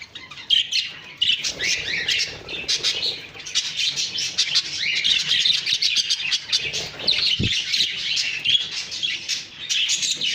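Several caged pet birds chirp and tweet without pause, a busy overlapping chatter heard close up, with a brief thump or flutter near the middle.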